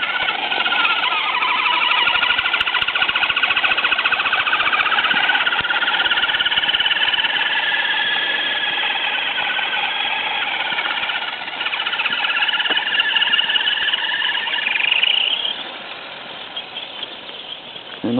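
The gearbox of an FTX Kanyon RC vehicle runs noisily with a sustained high-pitched whine and grinding, rising in pitch near the end before dropping off.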